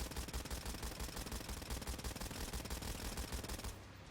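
Guns in the video game Killing Floor 2 firing in rapid, steady bursts, a dense rhythmic stream of close shots that runs almost the whole time before easing off at the very end.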